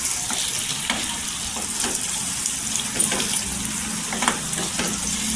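Tomatoes and onions sauté in a hot pan for a spicy potato curry, a steady close sizzle running the whole time with occasional scraping stir strokes.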